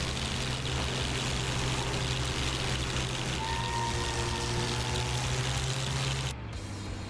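Continuous steady drone of a P-51 piston airplane engine in the DCS World flight simulator, loud and even throughout with a low humming tone, dropping slightly in level near the end.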